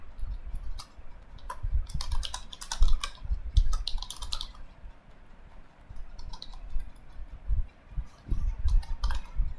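Someone types a student's name into Google Forms on a computer keyboard, with close, crisp key clicks coming in quick uneven bursts separated by short pauses.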